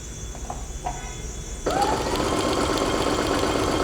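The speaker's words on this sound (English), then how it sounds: "So we're just going to start sewing." A Babylock Soprano sewing machine starts up after a moment of quiet and runs steadily, its needle mechanism humming and whirring continuously as it stitches through fabric, close and fairly loud.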